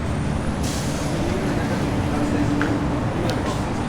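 A bus at a bus station gives sharp hisses of its air brakes over a constant loud rumble of engines and traffic, with faint voices in the background.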